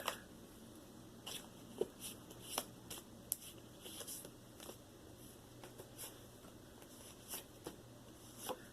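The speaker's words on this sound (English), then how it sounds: "I'm going to be shuffling 3 cards of the Cosmic" Tarot cards from a Cosmic deck being shuffled by hand close up, soft papery riffles and taps in irregular bursts against quiet room hum.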